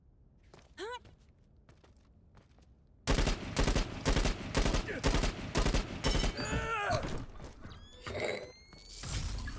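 BR-16 rifle gunfire in the shooter game Dirty Bomb: after a quiet stretch with faint game effects, loud rapid bursts of shots start at about three seconds and continue in choppy volleys mixed with mechanical clatter.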